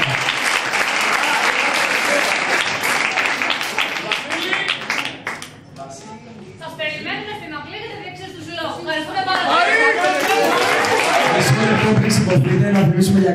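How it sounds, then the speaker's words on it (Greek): Loud applause from a crowd at a high-school graduation ceremony, sustained clapping that dips briefly in the middle and then swells again, with cheering voices mixed in. "το πιο μεγάλο χειροκρότημα το οφείλουμε στις καθηγήτριές μας και οργανώτριες αυτής της γιορτής, κυρία Αδαμή και κυρία"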